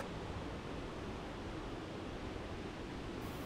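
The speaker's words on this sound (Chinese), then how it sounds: "沿河而行，溪水发出巨大的声响" A loud mountain stream rushes in a continuous dense roar without pause or voices, close and steady throughout.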